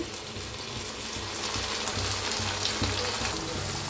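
Onion and ginger-garlic paste frying in a pan for chicken biryani, a steady close sizzle with a low bubbling crackle running throughout, no voices.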